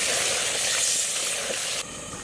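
Desi chicken meat fries in a clay pot with a loud, steady broadband sizzle that holds throughout, then abruptly drops to a quieter hiss near the end, with no voices.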